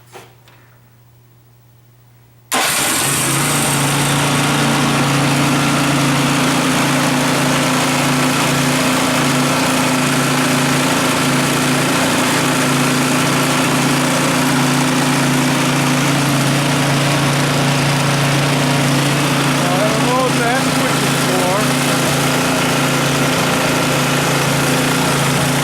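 A Troy-Bilt snowblower engine under repair starts suddenly after a brief quiet moment, then runs at a loud, steady idle with a constant mechanical drone and rattle.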